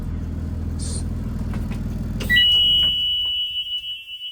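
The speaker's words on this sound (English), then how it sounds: "And we all know that buzzer." A school bus engine idles and then cuts off, followed by a steady high-pitched electronic shutdown buzzer that sounds for a couple of seconds before fading.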